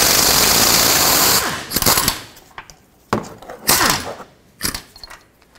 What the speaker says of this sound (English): So I'll hold the nut and loosen up the bolt.